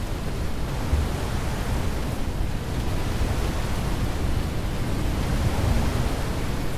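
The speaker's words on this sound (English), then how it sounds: "Yep, we are inside the tornado." Roaring tornado wind inside a storm-chasing video game, a steady dense broadband rush with no breaks, loud and close, heard alone without talk.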